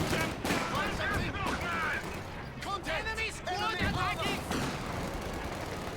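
Heavy explosions and gunfire from a WWII strategy game battle, including a large mortar shell impact, with repeated blasts and shots running under steady talking.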